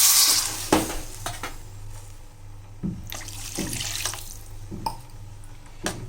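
Water poured into a pan while cooking semiya biryani, splashing and trickling near the mic with a few clinks and stirring knocks over a low hum.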